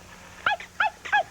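A toy dog, not a living animal, gives three short, sharp yaps in quick succession, close and fairly loud, with no voices over it.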